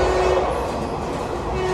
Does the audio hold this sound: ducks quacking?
no